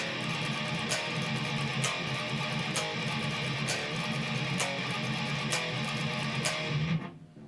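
Loud, dense distorted electric guitar thrash metal riffing with sharp rhythmic accents about once a second, steady and driving, then cutting off abruptly near the end.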